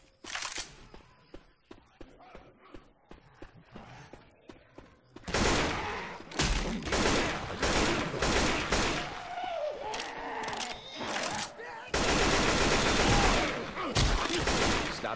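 Gunfire in Left 4 Dead 2 rattles in fast, dense bursts, with sparse shots early that become a loud, continuous volley with sustained chaotic firing and a faint voice underneath.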